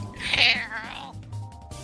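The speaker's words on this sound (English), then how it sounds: "Who's a cute kitty cat?" A kitty cat gives one clear, close meow with a rising then falling pitch. Low background noise runs underneath, and a voice is faintly present.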